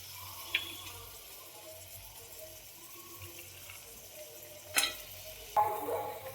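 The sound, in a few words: chickpeas, peas and potatoes being mixed in masala gravy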